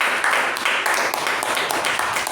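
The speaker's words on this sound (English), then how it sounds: "Let's give a thunderous round of applause to both the speaker and the evaluator." Applause from the audience at a Toastmasters club meeting, brisk and fairly dense clapping from a modest crowd, loud and steady for a couple of seconds with no one speaking.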